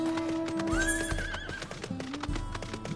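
A horse mount in Final Fantasy XIV whinnies with a rising, wavering neigh over steady clip-clop hoofbeats, all set against a continuous game music and ambience bed, with no voices.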